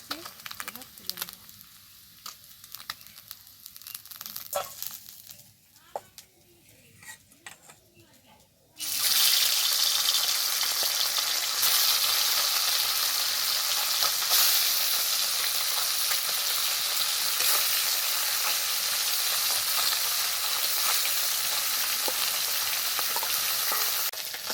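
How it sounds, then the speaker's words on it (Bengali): Fish frying in a wok, starting with quieter kitchen clatter and stirring, then breaking into a loud, dense, continuous sizzle that holds steady to the end while a voice speaks now and then. "এই দেখো, মাছগুলো খুব ভালোভাবে ভেজে নিয়েছি, এবার তুলে নেব।"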